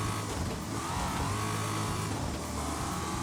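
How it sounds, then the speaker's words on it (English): A truck engine drones in Wreckfest during a Super Truck Showdown race, a continuous loud rumbling roar with shifting revs and no talk. "It looks like we're at actually a pretty good level for engine noise"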